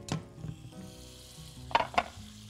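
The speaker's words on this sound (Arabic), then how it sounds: "دول معلقتين زبدة يبقى انا محتاجة معلقتين دقيق عليهم، ونقلب" Butter and flour being stirred together in a pan for béchamel, a soft sizzle broken by several scraping and tapping sounds of the utensil against the pan, close by with no talking.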